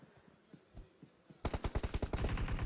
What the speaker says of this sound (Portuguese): atirou no corpo ainda depois, no cadáver